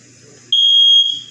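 A smoke or fire alarm sounds a loud, steady high-pitched electronic tone for about half a second, close by, over a low room background, then cuts off as the background returns.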